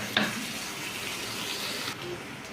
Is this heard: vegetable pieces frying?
yes